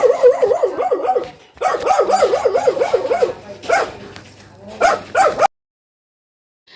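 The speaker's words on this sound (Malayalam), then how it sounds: "അവിടെയാണെങ്കിലും പട്ടിയ സൗണ്ട് ഞാൻ കേൾപ്പിച്ചാൽ കേട്ടോ" A dog barks repeatedly in a series of loud, close, rhythmic bursts at a neighbouring house, with short pauses between volleys before falling silent.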